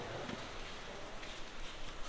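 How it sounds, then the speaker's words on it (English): Steady rain hisses and patters continuously, a dense even shower with scattered drops tapping on surfaces. "but it's raining outside."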